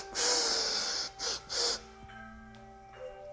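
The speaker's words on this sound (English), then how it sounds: "Lengthen that left arm away and inhale, inhale, inhale, inhale," Quick, sharp inhales through the nose in a breathing exercise, three close, forceful breaths in a row, then soft sustained tones underneath.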